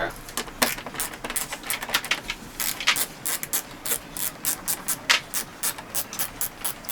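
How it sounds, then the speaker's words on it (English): A ratchet removes bolts from the front air dams of a 2016 Camaro SS, a near, steady series of quick clicking bursts with short pauses between them. "we will have to remove a couple of the bolts on your air dams on the front"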